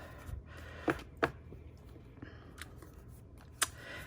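Quiet crafting room sounds of a Stampin' Up! paper trimmer cutting paper, with a few soft, sharp clicks and snips spread over low background hiss.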